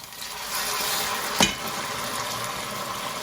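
Onions fry to golden in a pan with a steady, close sizzle. A single knock or scrape from stirring briefly interrupts the sizzle midway, and no one speaks.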